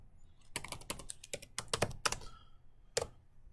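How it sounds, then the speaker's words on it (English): Quick bursts of keystrokes on a computer keyboard, close and clear, clustered in a rapid run followed by a single final tap. "at this point you're going to type in problem 4"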